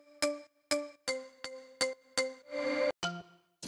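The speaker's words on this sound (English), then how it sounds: "It's just like a little bell sound." A bell-like pluck synth one-shot loaded into a sampler is played as a series of short, bright, evenly spaced notes, each with a sharp attack and quick decay, faint and isolated with no voices.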